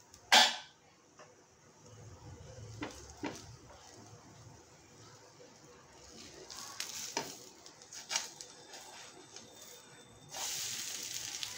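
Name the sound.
sweet corn chila sizzling in a pan after opening the lid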